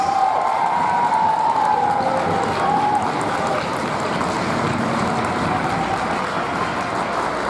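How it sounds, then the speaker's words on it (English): An opening ceremony crowd applauds and cheers for volunteers with a steady, broad wash of clapping and crowd noise, a brief whistle-like tone early on, continuing evenly throughout. "Can we give all of our volunteers a round of applause"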